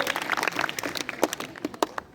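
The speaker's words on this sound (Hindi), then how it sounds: "गुड, तालियां बजा दो।" Schoolchildren in a classroom give a short burst of applause, scattered and uneven hand claps at moderate loudness, tailing off after about two seconds.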